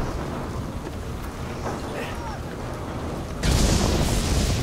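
Thunder in the game Assassin's Creed Unity, a low rumbling roll under steady stormy noise, swelling abruptly into a louder, broad crash toward the end.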